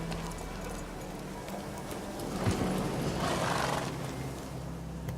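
Hooves of Roach, Geralt's horse in The Witcher 3, clopping steadily up close and slowing down, with a brief snort or whinny midway over faint outdoor ambience.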